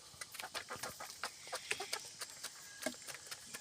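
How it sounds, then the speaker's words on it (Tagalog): White leghorn breeder chickens clucking close by, a quick series of soft, irregular clucks and short calls over a few seconds with faint background noise. "Ito, white leghorn to."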